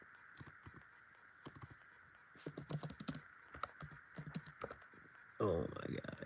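Fingers type on a computer keyboard in short irregular bursts of clicking keys, close and quiet, followed by a louder rustling thump at the end, with no voices.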